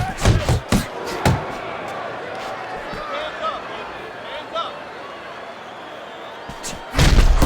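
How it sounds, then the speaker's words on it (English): Punches landing in a Mike Tyson boxing match: several sharp, heavy thuds at the start, a quieter stretch of arena crowd noise, then more impacts at the end, with commentary over the top. "And now they're trading blows."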